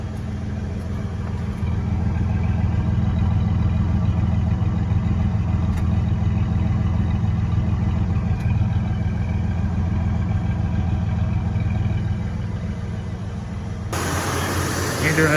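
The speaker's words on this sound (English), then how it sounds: "that's a pretty good idle" Ford Fox with a 3.8 liter V6 and 1984 emissions equipment idling, a steady low rumble held evenly throughout from close by, ending in a brief burst of louder noise.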